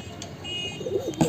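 Soft coos from a lot of twelve Madrasi pigeons come and go over a quiet background, growing a little louder near the end with a short burst of fuller calls.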